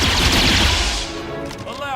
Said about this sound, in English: And then you shoot this guy.